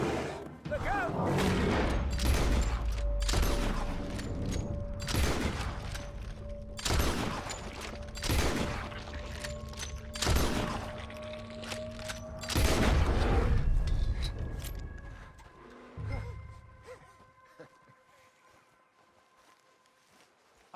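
Repeated loud gunshots ring out in a Red Dead Redemption 2 bear hunt, roughly a dozen sharp blasts spaced a second or two apart, mixed with game sound and a tonal drone, then fading to quieter ambience near the end.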